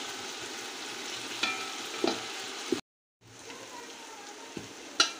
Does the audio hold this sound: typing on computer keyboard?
no